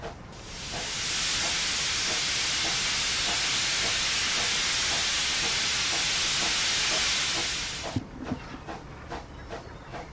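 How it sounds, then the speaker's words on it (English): A steam locomotive, the Hogwarts Express in Train Simulator on the Fort William to Mallaig route, releases a loud, sustained hiss for several seconds, then stops, leaving rhythmic clanking and clickety-clack of the wheels on rail. "Yes, it is the Harry Potter train being run over the exact route as well"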